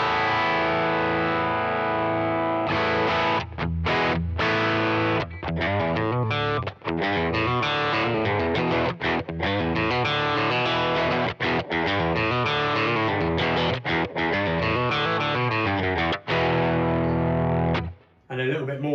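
Eastman T64/V electric guitar played through heavy added gain distortion, a continuous dense run of overdriven chords and notes with brief gaps, loud and close throughout.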